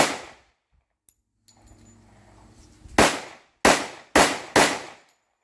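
A Girsan 1911C pistol in .45 ACP fires Federal 230 grain hollow points: after a quiet stretch with faint handling, four loud, sharp shots crack out at uneven intervals, each with a short ringing decay.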